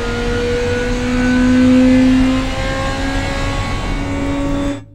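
A simulated car engine in a car-design video game drones steadily around a test track, its pitch holding high with a brief swell midway before cutting off abruptly near the end.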